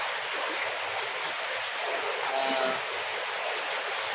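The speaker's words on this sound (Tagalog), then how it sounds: "Laki na ulan, nabasa na mga sampay eh." Heavy rain falls steadily outdoors near a home with laundry hung out to dry, a dense, even hiss of water on surfaces that holds at constant loudness throughout, with no voices over it.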